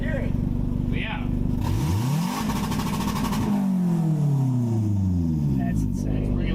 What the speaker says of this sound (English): You want to hear my car?